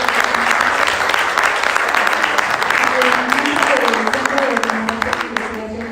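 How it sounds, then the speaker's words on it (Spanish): A crowd applauds steadily, dense clapping throughout that eases off slightly at the end, with a voice speaking over it. "les pido un aplauso para"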